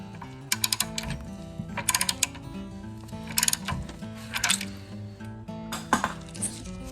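A wrench tightens 18 mm bolts on a 2013 Mercedes-Benz ML350 during a rear coil spring replacement, producing a series of faint metallic clicks and clinks over a steady low hum, with no talking.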